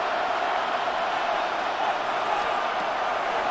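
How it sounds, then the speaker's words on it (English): A stadium crowd roars at Arrowhead in the Madden NFL 26 video game during a Lions versus Chiefs matchup, a dense, steady wall of cheering that stays loud and unbroken. "The crowd at Arrowhead roaring."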